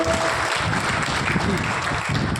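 A theatre audience applauds performers after a Hindi play, a steady dense wash of clapping that fills the whole stretch at an even, fairly loud level.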